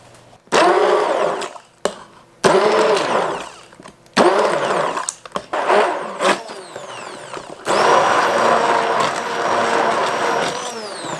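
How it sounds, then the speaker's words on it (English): A blender blitzes cherries in loud whirring bursts, several short pulses followed by a longer sustained run, close and with no voices. "we are just going to get these cherries blitzed up"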